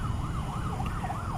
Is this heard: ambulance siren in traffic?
yes